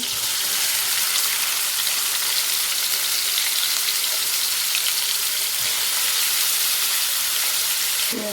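Finely chopped, boiled mutton tripe (boti) frying in a pan, a loud, steady hiss and crackle of hot oil that holds even throughout, with a brief clink near the end and no speech.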